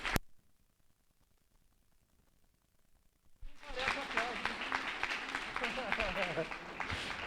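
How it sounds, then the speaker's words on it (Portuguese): A church congregation breaks into sustained applause after a short quiet pause, the clapping dense and fairly distant, with voices faintly mixed in. "Quer dar um aplauso para Jesus bem forte?"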